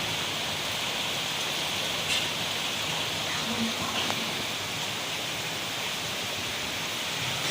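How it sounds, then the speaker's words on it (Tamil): Heavy rain pours down in Velachery, Chennai, a dense, unbroken hiss of water falling steadily and evenly throughout, with only faint, brief sounds breaking through the downpour. "அப்படியே அப்படியே மேலே தண்ணி கொட்டுற மாதிரி மழை"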